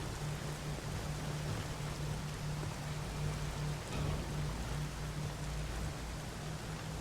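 Steady rain falls on a lakeside in the video game Nioh: Complete Edition, a soft, even hiss of drops that holds constant at low volume with no talking.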